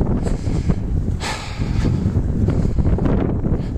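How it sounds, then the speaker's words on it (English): Blustery wind buffets the microphone in a continuous low roar on a park trail in late November, gusting briefly louder in the middle. "It's pretty windy out here."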